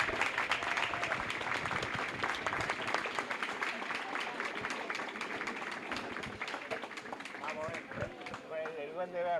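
An audience at an Argentine horror film festival talk applauds four film directors, a dense roar of clapping with whoops and cheering voices throughout, the crowd shouting over the noise near the end.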